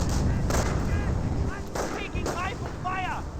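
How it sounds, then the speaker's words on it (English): Sniper rifle shots crack amid continuous battlefield gunfire and artillery in Company of Heroes, a World War II real-time strategy game, with dense, loud combat noise throughout. "Another sniper shot there"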